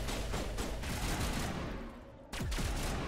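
Dense, continuous gunfire from a game, with shotgun blasts booming in rapid succession, a brief dip and then a sudden resumption of loud shooting.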